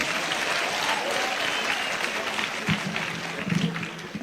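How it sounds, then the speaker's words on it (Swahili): Crowd applause for the governor at a Kenyan funeral gathering, a dense steady clapping that runs the whole time and swells near the end. "Makofi tena ya governor."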